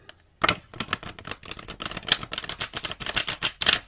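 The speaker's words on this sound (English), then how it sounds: "I'm going to do one more shuffle" Tarot cards shuffled by hand, a dense run of crisp riffling slaps and flutters repeating steadily and close for a few seconds, with no talking.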